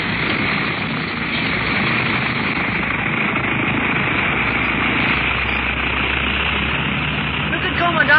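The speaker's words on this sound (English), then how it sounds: "Everything is ready for the takeoff, Clint." An airplane engine starting up for takeoff in a radio drama, a loud continuous droning rumble that holds steady and builds slightly toward the end.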